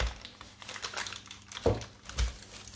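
Parchment paper is handled in a kitchen while making white chocolate rocky road, with close crinkles and rustles and a couple of sharper crumpling bursts, and no talking.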